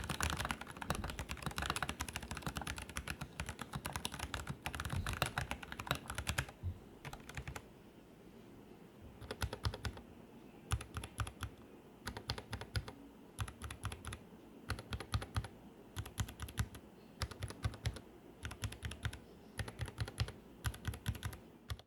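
Kailh Box Brown mechanical keyboard switches typed on steadily up close, a dense run of clacking keystrokes that thins out into spaced bursts of typing, no talking.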